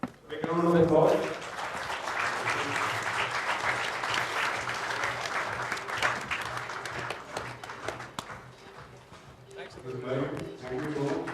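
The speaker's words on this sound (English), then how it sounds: "Make a round of applause." Audience applause at a youth conclave session on stage in Bengaluru, a sustained crowd of clapping that swells, holds steady for several seconds and tapers off, with a voice over the start and end.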